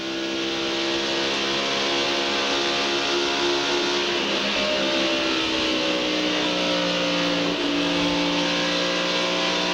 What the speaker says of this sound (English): stretching out the advantage just a little bit on Terry as they go down the back stretch